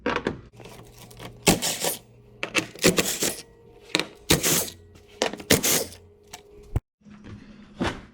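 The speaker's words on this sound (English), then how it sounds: "Now with a 10mm socket, we're going to remove all of these" Bolts on a 2011-2014 Ford F250/F350 6.7 Powerstroke being loosened with a 10mm socket, heard as a series of sharp ratcheting clicks and cracks in separate bursts, close up and without talk.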